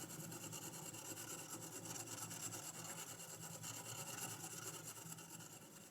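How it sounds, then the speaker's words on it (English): Woodcarving gouge being rubbed back and forth on its outside edge with Autosol metal polish, a steady close rasping scrub with a fast, even rhythm throughout. "Then rub the gouge backwards and forwards"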